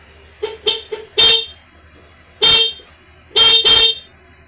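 A stock factory car horn beeps several times, first three short quick toots, then a longer honk, a pause, and a final pair of blasts.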